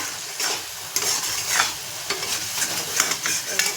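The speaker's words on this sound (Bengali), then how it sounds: "চিকেন মশলার সাথে ভালো করে কষে নেব ঢাকা চাপা দিয়ে" Chicken with spices, yogurt and a little sugar fries in a pan while being stirred, giving a close, continuous sizzle broken by repeated scraping strokes of the spoon, with no voices.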